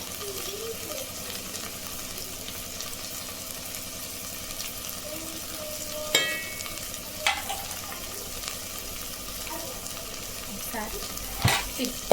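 Garam masala being stirred into paneer and cashew pulao frying in a pan, a steady sizzle running throughout with a few sharp scrapes of a spoon against the pan, close and moderately loud.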